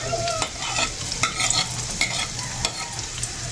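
Sliced onions frying in hot oil with chili peppers, a steady crackling sizzle with brief stirring scrapes and clinks throughout, close and moderately loud.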